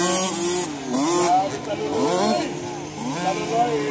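Small 50cc motocross bikes race during a final heat, their engines whining and revving up and down in rising and falling pitch sweeps, with a commentator talking over the engine noise.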